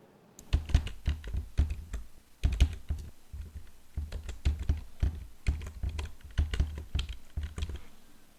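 Username and password being typed on a computer keyboard: close, crisp key clicks in quick irregular bursts separated by short pauses, with no talking.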